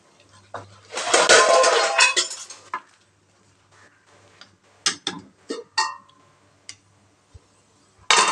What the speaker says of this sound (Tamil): மறுபடியும் இதை நாம் மூடி வச்சிடலாம்